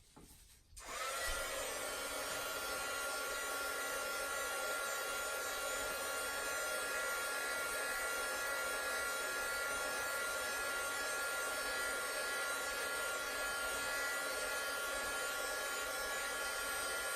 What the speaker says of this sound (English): Sorry for the heat gun noise.